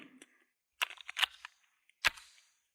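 A gun is fired through a drywall panel. Several sharp, distant-sounding reports are spread over a few seconds, with the last crack the loudest, against near silence.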